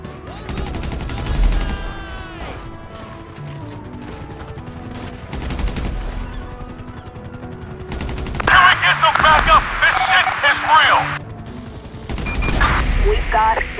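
Game gunfire at Los Santos International Airport in Grand Theft Auto, with bursts of automatic fire and heavy rolling shots loud and close over a bed of music and engine noise, peaking in dense volleys toward the middle and end.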